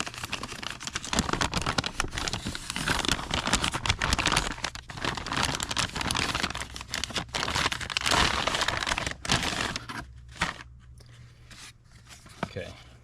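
Soft fabric bag for a pan and tilt gimbal being opened, with continuous close crinkling, rustling and crackling for about ten seconds before it quiets down to a few small handling sounds.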